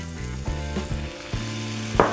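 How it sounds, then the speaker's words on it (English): Puy lentils sizzle and crackle steadily in a hot frying pan with a splash of balsamic, a close, continuous hiss with a few brief clatters along the way. "add your pui lentils going in. And it should sizzle away."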